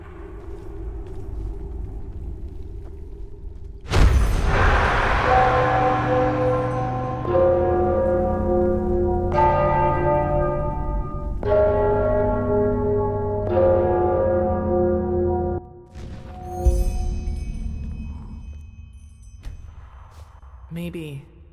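Bells in the fantasy video game Enderal ring out inside a cavern, a series of resonant tolls at different pitches with long decaying tails over a low rumble, loud and close.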